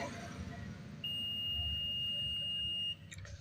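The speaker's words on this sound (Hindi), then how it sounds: "बीप की आवाज़ आ रही है।" A continuous multimeter continuity beep sounds as the probes touch the network wire on a Samsung Galaxy M20 phone board, a steady high tone lasting about two seconds over a low background hum.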